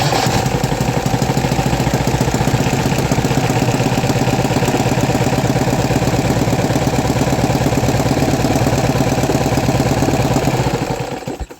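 A small custom-designed carbureted engine idles loudly and close up with a fast, steady, slightly uneven putter that runs unbroken for about eleven seconds before cutting off at the end.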